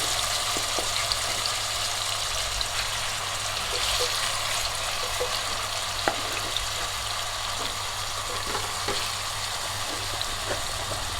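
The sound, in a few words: chicken frying in a pressure cooker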